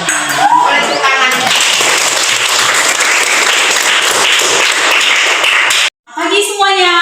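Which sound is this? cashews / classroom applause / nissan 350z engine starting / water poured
classroom applause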